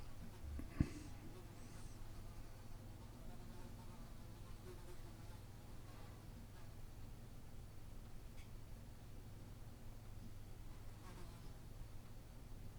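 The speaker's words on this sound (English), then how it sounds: "I have a fly buzzing around the microphone." Fly buzzing around a microphone during a Kawasaki Vulcan S battery change: a faint, continuous low drone that swells and fades as it moves, with a brief click near the start.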